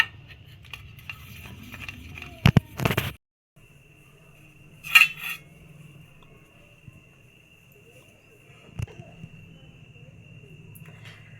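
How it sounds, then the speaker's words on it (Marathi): A metal idli steamer pot being oiled gives a few scattered clinks and taps of metal, with a sharp clatter early on and long quiet stretches of low hum between them. "इडलीच्या भांड्याला आपण असं पूर्ण तेल लावून घेऊया सगळीकडून"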